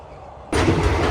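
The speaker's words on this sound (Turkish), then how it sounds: "terk edilmiş trende seyahat ediyoruz" Silence breaks into a sudden loud, broad rumbling roar of an old abandoned train moving on rails, heard from aboard, close and continuous.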